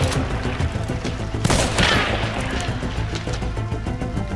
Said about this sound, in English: Still more shots from over there.